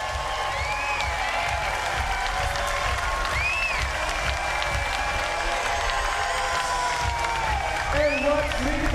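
A beach volleyball crowd at Huntington Beach cheers and applauds during a women's gold medal final, a dense roar of clapping and whistles with an announcer talking over it.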